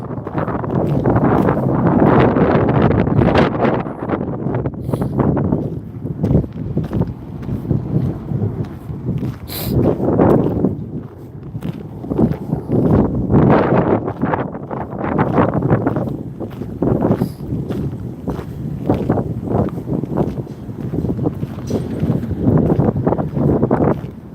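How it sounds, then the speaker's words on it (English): Vicious gusts of wind sweep down a street in Santa Rosa, loud rumbling buffets on the microphone that rise and fall in surges throughout, with no talking. "That wind is a bit vicious today."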